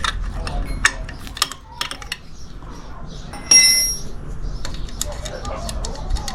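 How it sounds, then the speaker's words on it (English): Wrench loosening 12mm bolts on a 1995 Toyota Tacoma 2.7L four-cylinder engine during a rebuild: scattered sharp metallic clicks and ratchet clinks, with a brief louder clank midway, over a low background. "now we have enough to just use the wrench and loosen these"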